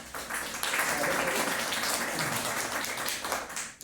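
Crowd at a women's community program in Azamgarh clapping for a chief guest, a brief, moderately loud burst of applause that swells and then fades.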